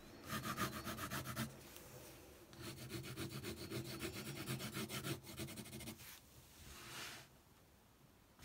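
A pen scribbles on paper in short, rapid rubbing bursts, marking small shading strokes on drawn steps. The sound is close and steady, with brief pauses between strokes and no talking.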